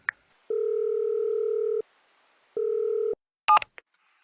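Telephone tones: a brief beep, a long steady tone, a pause, a shorter tone, then a quick burst of dialing beeps, clear and close.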